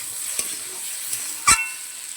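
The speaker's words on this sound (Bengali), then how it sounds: "এটাকে ভালো করে একটু কষিয়ে নিয়ে জল দিয়ে দেবো।" Frying with chili powder in a pan, a quiet constant sizzle with a couple of light stirring scrapes and one louder metallic clink near the end, close with no talk.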